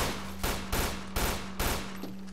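Rapid gunfire crackles in a video game as five sharp bursts of shots come in a fairly even rhythm over a couple of seconds, moderately loud over a steady low hum.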